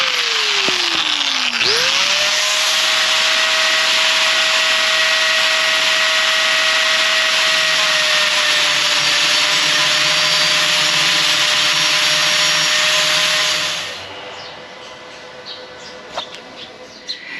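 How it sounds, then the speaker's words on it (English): A power tool grinds down part of a cordless tool organizer, a loud, steady, harsh rasp with a whining tone that runs unbroken for about twelve seconds, then cuts off to near quiet. "So I think the least damaging would be to grind these down just a little bit."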